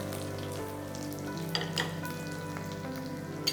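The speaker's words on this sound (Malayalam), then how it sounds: "ഇതെല്ലാം കൂടി ഒന്ന് ജസ്റ്റ് മൂപ്പിച്ചെടുക്കാം നമുക്ക്" Garlic and chopped ginger frying in a pan, giving a steady close sizzle with a low background hum and a few soft clinks from stirring.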